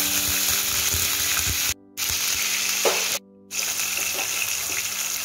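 Onion paste sizzling and frying in hot oil for a mutton kofta malai curry gravy, a steady broad hiss with brief drops in sound, close and loud, no talk.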